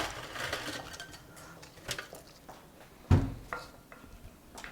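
Buffalo chicken dip being stirred and transferred into a pan, with scattered clinks and scrapes of utensil against cookware and one sharper knock partway through, close and fairly quiet.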